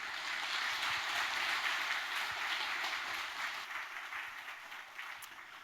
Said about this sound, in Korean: 우리 수고한 세 분에게 큰 박수 한번 다시 한번 보내드릴까요?